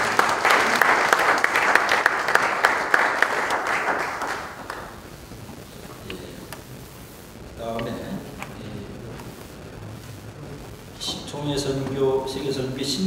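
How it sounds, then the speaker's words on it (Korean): An assembly at a church missions board general meeting gives a dense burst of applause for newly elected officers, which fades after about five seconds into someone speaking over a quieter room. "박수로 한번 경하겠습니다."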